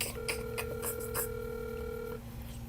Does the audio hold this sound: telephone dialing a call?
yes